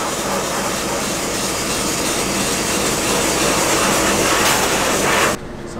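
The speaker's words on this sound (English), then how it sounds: "So sandblasting is done." Sandblasting aluminum rims with aluminum oxide media: a loud, steady, broadband hiss and roar of the blast nozzle running continuously, cutting off abruptly near the end.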